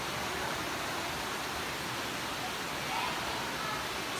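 A Wisconsin waterfall roars as a steady, dense rush of falling water, loud and unbroken throughout with no clear voices above it.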